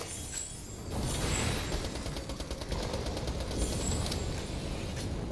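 Rapid automatic gunfire from Borderlands: The Pre-Sequel, a steady dense rattle of shots running for about five seconds, loud and continuous with a brief lull near the start.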